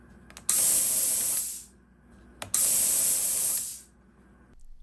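Two separate bursts of mist coolant spray hiss loud and close from the nozzles on a retrofitted CNC mill, each lasting about a second and cut off cleanly, with quiet gaps between them and no talk.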